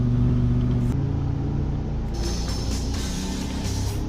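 A Lamborghini Aventador SVJ 2018 in Euro Truck Simulator 2 gives off a steady, loud engine drone and road rumble that holds for the whole stretch, with a brief shift in pitch partway through.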